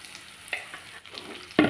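Amla pickle sizzles softly in hot oil, with faint crackles and a louder stirring scrape near the end.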